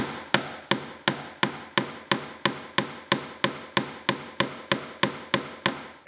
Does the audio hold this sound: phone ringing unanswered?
no